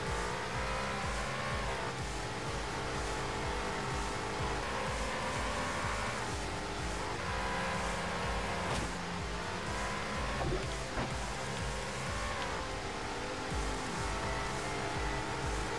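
Racing car engines roar continuously in the Horizon Chase Turbo video game, loud and dense, with rising and falling revs and occasional tire squeal under game music.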